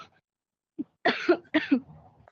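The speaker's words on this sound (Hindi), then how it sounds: "देखो तुम्हें खांसी हो रही है ना," Several short, throaty coughs from a person, a faint one first and then two louder bursts close to the microphone, over a quiet background with no talk.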